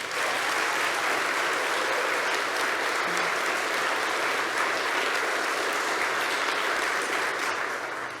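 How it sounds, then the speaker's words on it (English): Sustained audience applause fills a forum hall, a dense, even wash of many hands clapping at a steady level with no voices rising above it. "And if you like, you can keep clapping"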